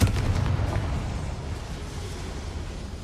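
A fire-spell blast of Confringo in the game Hogwarts Legacy, one deep booming burst at the start that rumbles and fades into a low roar.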